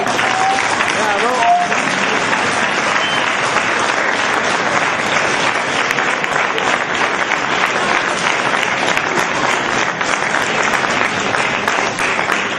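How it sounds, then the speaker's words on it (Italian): Audience at a town meeting with the mayor and council applauding in a dense, steady burst of clapping that carries on for over ten seconds, loud and close, with some voices mixed in. "Un bel applauso alla giunta, al sindaco per questa occasione."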